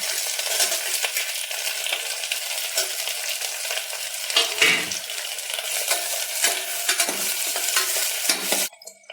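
Sliced onions and boiled, cut jackfruit seeds frying in a pan, a loud, close sizzle with continuous stirring and scraping that cuts off abruptly at the end.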